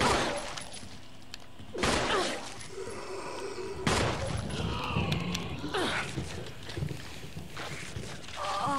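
Gunfire from shooting in Resident Evil 1 (2013 version), a few sharp broadband blasts separated by seconds, mixed with other game sounds and a person talking over it.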